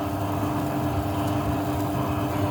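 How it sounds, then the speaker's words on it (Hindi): A wet grinder churns dosa batter, ground smooth after about half an hour, giving a loud, steady motorized rumble with a low hum that runs unbroken from start to finish, with no voices over it. "वेट ग्राइंडर को हम बंद कर देते हैं"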